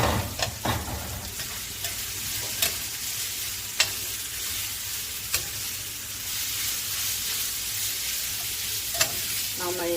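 Dried chili and vegetables sizzle steadily in a hot pan for chakalaka, with a spoon stirring and scraping in sharp, irregular clicks against the pan throughout.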